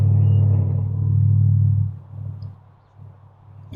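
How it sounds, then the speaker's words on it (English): A loud car rumbles past outside, a deep engine roar that swells strongly at first, then fades in uneven surges as it moves away, with no talking over it. "Dang, the car is so loud out there."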